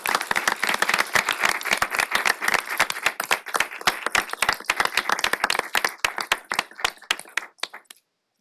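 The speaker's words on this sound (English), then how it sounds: "please join me in a round of applause for these dedicated staff." A county board of commissioners meeting audience applauds, many hands clapping steadily and densely for about eight seconds before the sound tapers off and stops, with no voices over it.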